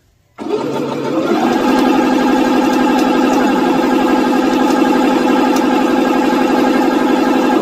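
A Pfaff E-Element C1105 sewing machine starts up and runs at speed, a fast even mechanical whirr with a rapid needle rhythm, close and loud, continuing steadily to the end.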